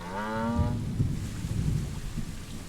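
Rain and thunder in the Planet Zoo video game, a steady wash of rainfall with low rumbling thunder rolling underneath, loud and continuous, no talk.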